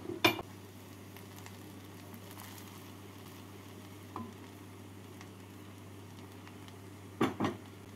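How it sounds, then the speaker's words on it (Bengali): Chicken pulao is stirred in a pot with a couple of brief scraping clinks of a spoon against metal over a steady low hum and faint sizzle, close and quiet, no voices. "এবার 5 মিনিট পর ঢাকা খুলে পোলাওটাকে নাড়াচাড়া করে"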